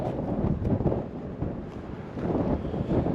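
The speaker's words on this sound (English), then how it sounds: "It is windy out here." Strong wind gusting across a summit at Hawkeye Point, Iowa, buffeting the microphone in continuous rumbling surges that swell and ease over a few seconds, loud and close with no voices.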